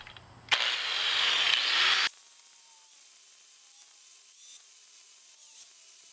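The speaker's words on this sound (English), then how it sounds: "I'm going to grind most of the weld off the end." Grinding weld off the end of a Kohler engine bearing plate on a Wheel Horse 704 tractor: a loud, harsh burst lasting about a second and a half, then the tool cuts off and a quiet hum lingers.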